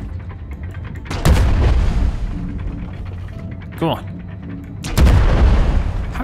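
Airship cannons fire heavy booming shots in a game battle in Worlds Adrift, with three loud blasts spaced a few seconds apart and a player talking over the gunfire.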